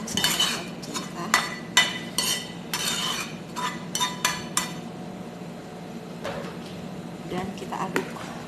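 Bread dough mixed with vegetables gets stirred in a bowl, giving a series of sharp clinking knocks of a utensil against the bowl in an uneven rhythm. A voice talks quietly underneath.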